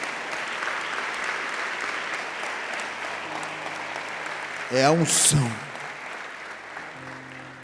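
A church congregation at a conference breaks into a short burst of applause near the middle, loud but brief, set against ongoing crowd ambience and a preacher's amplified voice speaking.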